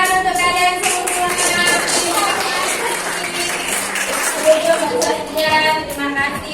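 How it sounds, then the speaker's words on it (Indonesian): A group of participants in a classroom workshop clap hands together, a dense mix of claps and taps sustained for several seconds with talking and voices mixed throughout. "Oke, tepuk tangan untuk kalian semua."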